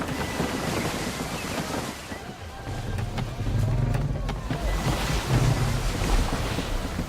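Strong wind at sea in Assassin's Creed 3, a loud, continuous gusting roar mixed with waves and the sounds of a sailing ship, with voices shouting orders over it.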